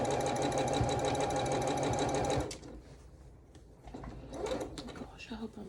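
A sewing machine runs steadily on a Calico Snails table runner for over two seconds, then cuts off, leaving someone talking nearby with light rustling.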